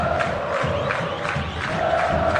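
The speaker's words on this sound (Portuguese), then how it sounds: "E a torcida vai junto de novo." Stadium crowd of football fans cheering and chanting at Vila Belmiro during Santos versus Novorizontino, a loud continuous roar rolling in waves without pause.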